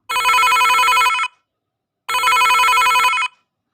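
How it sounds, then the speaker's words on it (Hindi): A telephone rings twice, loud and close, each electronic trill lasting about a second with a pause of silence between them. "फ़ोन की घंटी बजते ही निशा ने उसे उठा लिया।"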